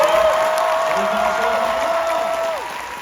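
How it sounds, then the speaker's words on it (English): An anime convention panel audience at Otakon applauds the studio staff on stage, broad crowd clapping with a few cheers, partly covered by a sustained tonal sound and fading toward the close. "If you give a big round of applause for the people on the stage."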